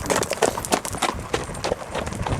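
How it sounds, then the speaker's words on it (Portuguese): Horses in good condition galloping during an equestrian ride in Murtosa, with steady rhythmic hoofbeats carrying on throughout at a moderate distance, their outdoor noise broad and continuous. "nenhum cavalo com sintomas de estar cansado, e vem aí num bom galope"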